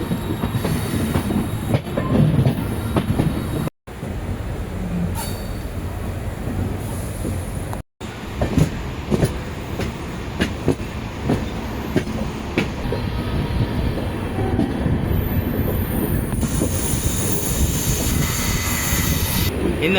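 The Yelagiri Express, a passenger train with LHB coaches, rumbles loudly along the rails from Chennai toward Jolarpettai. The heavy roar is steady, with rhythmic wheel clatter and two abrupt brief dropouts.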